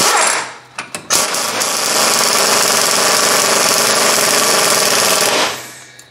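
A power tool, likely an impact wrench, runs an axle nut onto a 2001 Ford Explorer Sport Trac during lower ball joint replacement, a loud steady buzzing whir for several seconds after a few short bursts, close by.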